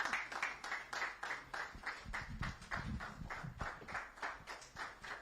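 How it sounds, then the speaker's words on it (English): Steady rhythmic clapping from an audience at the official launch event of a corporate farm in Lagos, moderately loud and continuous, with a brief burst of low rumble partway through. "the applause are already going on, even before we ask for it"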